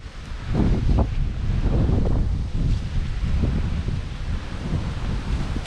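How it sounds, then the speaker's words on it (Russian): Strong wind gusts buffet the microphone at an October carp fishing spot, a loud rough rushing that swells and eases throughout with no voices. "Вот такой ветер"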